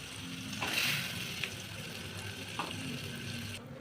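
Ground masala with mutton masala powder sizzles and fries in a pan for egg curry, a soft steady crackle with a few stirring scrapes and clinks, quiet and close.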